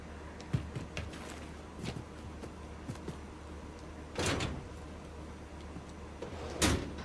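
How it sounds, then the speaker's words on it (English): A door in a video game slides and bumps open among scattered soft clicks and knocks, with two louder whooshing thuds standing out at a moderate level. "Why'd you hesitate to open the door?"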